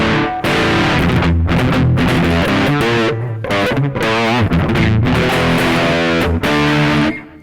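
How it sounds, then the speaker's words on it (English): Heavily distorted electric guitar played through a multi-effects processor plays loud, dirty chords and riffs with a gritty, saturated tone, continuous with brief pauses between phrases. "It's more of like a dirty distortion sound."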